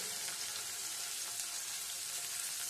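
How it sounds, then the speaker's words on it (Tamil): Soft, steady sizzling from a pan as chopped coriander fries for tomato chutney, a continuous quiet crackle with no voices. "அதுவும் சேர்த்து இதுல வதக்கிக்கலாம்."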